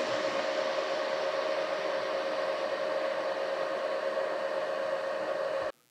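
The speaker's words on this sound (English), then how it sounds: "the fans that are variable speed will kick on to high mode. Then you can hear them quite easily" Loud, steady whir of an Anker Powerhouse 767 portable power station's variable-speed cooling fans running on high, a constant broadband rush with a tonal hum, cutting off abruptly at the end.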